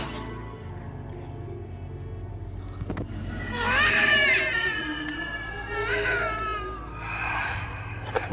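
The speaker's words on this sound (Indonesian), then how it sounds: "Ada suara bayi nangis." An infant crying in a quiet indoor setting, with several rising wails in bursts separated by short pauses against a low background hum and faint clicks.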